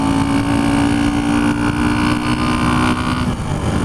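A 1976 Honda CB125S motorcycle engine running on the road as the rider shifts into second gear, a loud continuous drone with a steady tone and a slight dip near the end.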